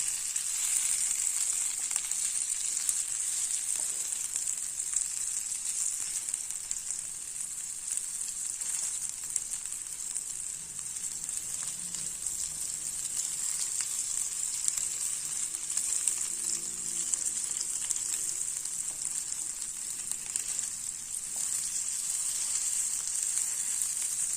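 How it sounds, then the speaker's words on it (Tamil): Taro (colocasia) roast frying in oil in a pan over a medium flame, a steady even sizzle and crackle that holds throughout, with faint soft stirring underneath. "மீடியம் ஃப்ளேம்லேயே வச்சு நல்லா வேக விட்டு எடுத்துடலாம் வேகட்டு காமிக்கிறேன் நல்லா கொஞ்சம் கொஞ்சமாக கிளறி விட்டுடலாம்"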